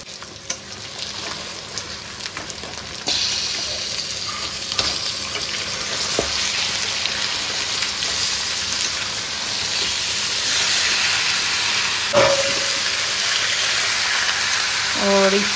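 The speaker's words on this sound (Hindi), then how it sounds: "अब इसमें जो है चिकन डालेंगे।" Chicken hits a hot pan of cooked masala for a desi-style chicken fry, and the steady sizzle jumps louder and hisses continuously, with a few scrapes and clinks from stirring.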